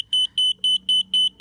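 A smart multimeter emits a sharp high-pitched electronic beep repeating in a fast, steady on-off pattern, loud and close, with nothing else around it.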